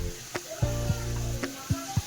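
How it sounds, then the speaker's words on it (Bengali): Water boils in a pot on a home stove while rice-cake sweets are being made, giving a soft bubbling bed punctuated by several sharp pops at irregular intervals. "এবার টক টক করে ফুটছে তো"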